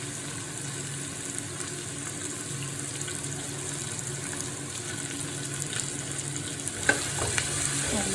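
Onions frying in oil for a fish head curry, a steady close sizzle running throughout with scraping stirs, a sharper clatter near the end, no voices.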